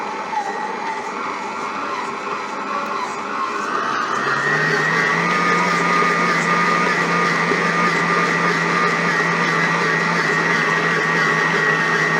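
Oberhof planetary mixer running with its dough attachment, a loud continuous motor whine and hum that steps up in pitch and intensity partway through, then holds steady with no talking.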